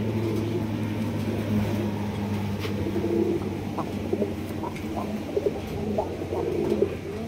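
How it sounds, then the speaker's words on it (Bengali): Pigeons at a pigeon market in Bangladesh, including beauty and high-flying breeds, cooing repeatedly in soft low calls from several birds nearby, with occasional flutters and clicks over a constant background hum. "দর্শক এখানে রয়েছে দুই কোয়ালিটি কবুতর, একটা হচ্ছে বিউটি কবুতর, একটা হচ্ছে কি আপনার চড়া কবুতর"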